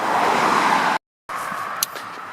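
A car travels along a busy road descending from the Hautil toward Triel, with no pavement beside it. Steady, loud broadband road rumble runs continuously, then stops abruptly before fainter traffic noise returns with a brief click.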